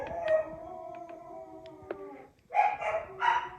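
Two dogs howl like wolves, their long wavering tones overlapping, then break into louder yipping howls near the end, close by and without speech.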